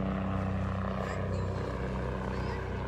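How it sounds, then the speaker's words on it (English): A helicopter flies overhead, its rotor and engine producing a steady, loud low drone with rhythmic thumping that dominates throughout, with no talking. "oh, sorry, there was a helicopter"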